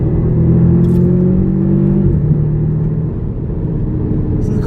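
A 2012 Audi TTS engine drones steadily on a downshift, its pitch dropping then holding lower with a low rumble underneath.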